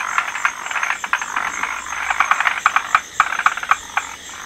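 A dense chorus of frogs croaking in India, many overlapping calls forming a steady rattling pulse, loud and close with sharper individual croaks toward the end and no voices.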